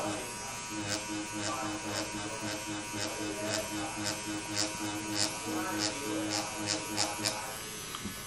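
Tattoo machine needle buzzing while shading a realism piece, a steady close electric whine with a soft hum beneath, with faint ticking taps, while a person talks over it.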